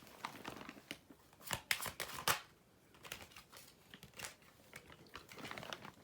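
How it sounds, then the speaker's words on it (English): Soft papery riffling and flicking of cards being shuffled, in quick irregular bursts, close and fairly quiet, with no voices. "So we're just going to shuffle and we're going to see what we get."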